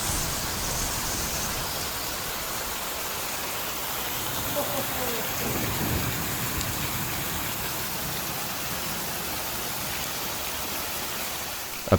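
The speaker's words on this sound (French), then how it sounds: "nous sommes sur le point d'encaisser la pleine puissance de l'orage" Heavy thunderstorm rain pours steadily and loudly onto surfaces near a hangar, a dense unbroken hiss with no distinct thunder clap standing out.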